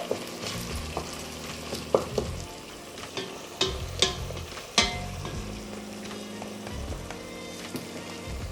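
Onions frying in a pan, a steady close sizzle with occasional sharp clicks and scrapes from stirring, no voices.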